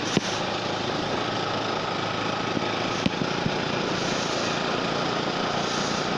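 A Bajaj Pulsar NS 200 motorbike engine drones steadily while the bike is ridden on a mountain road between Butwal and Palpa, a constant close buzzing hum with wind rush and a couple of brief knocks.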